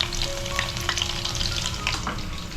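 Fish fries in a pan at home with a steady, dense sizzle and crackle, with occasional popping spatters and a faint tonal hum in the background, with no voices.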